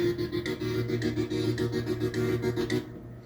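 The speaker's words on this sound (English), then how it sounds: "This one is titled Piano Roll Digital Rust," A digital synth layer called Piano Roll Digital Rust plays a steady repeating melodic pattern with sustained tones and rhythmic pulses, loud and alone, then cuts off near the end.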